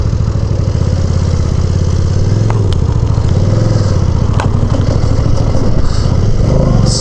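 Motorcycle engine lugging at low revs in second gear on an Iowa ride, a steady deep pulsing thrum with mechanical clatter, loud and close throughout with no talk.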